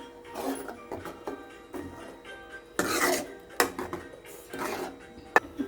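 Potato curry with ground coconut paste being stirred in a pot, a spoon scraping and clinking against the metal in uneven bursts, close and moderately loud, with no talking.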